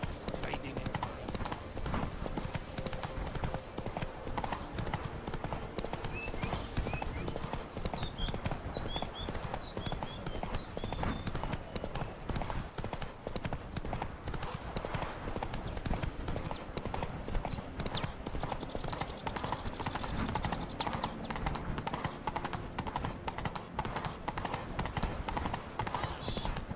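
Knights' horses clip-clopping in The Witcher 3: Blood & Wine: steady hoofbeats throughout under music and ambient noise, with occasional talking voices.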